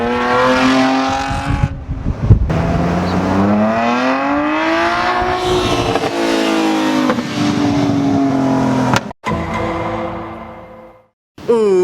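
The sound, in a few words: modified BMW 128i inline six engine with aggressive exhaust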